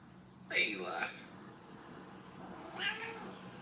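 Cat meowing nearby, two drawn-out meows about two seconds apart, the first louder, over a quiet room background.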